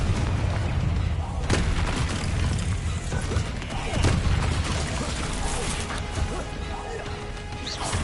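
Spell blasts from the video game Hogwarts Legacy, Incendio fire bursts and Confringo explosions, land as dense crashing impacts and booms over continuous battle noise, with a voice speaking over the action.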